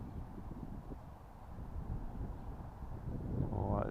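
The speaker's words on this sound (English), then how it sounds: "That is a bit windy" Wind gusts across an open outdoor field where a rubber-band-powered foam glider is flown, a steady broadband rush and buffeting that swells louder toward the end.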